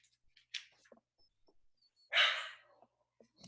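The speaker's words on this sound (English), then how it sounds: "Killer dogs in my house." Dogs bark inside a house, heard faintly at a distance, with one harsher burst standing out among small scattered noises.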